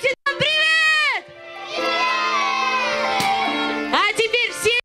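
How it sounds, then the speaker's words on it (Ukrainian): A crowd of children at a festive party shout a greeting together on cue, long loud sustained yells in chorus, followed by more scattered excited shouting. "Піднімайте ручки вверх і громко кричите нам привіт!"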